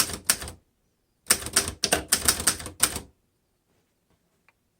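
A 1954 Underwood vintage manual typewriter typing in close, crisp bursts of rapid key strikes: a short run, a pause, then a longer flurry of clacks before silence.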